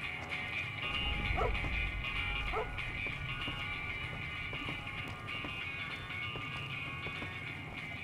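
A dog in Fallout New Vegas barks several times over steady game background noise, the barks sharp but fairly soft, with a few faint clattering hits scattered through.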